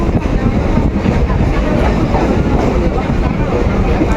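A train rolls steadily along the rails near Dum Dum Cantonment, a dense continuous rumble and rattle close by, loud and unbroken throughout.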